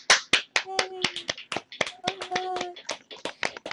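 Scattered hand claps from a few people, irregular and close, with some brief tonal sounds mixed in; sparse rather than a full round of applause.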